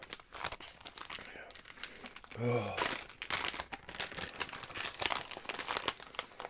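A honey cough drop wrapper being crinkled and unwrapped up close in short crackling bursts, with a louder tearing crinkle partway through and a voice talking over it.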